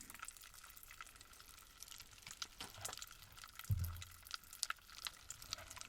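Faint, quiet bubbling and soft popping of a liquid dying down, sparse and irregular, with a low thump partway through and otherwise near silence.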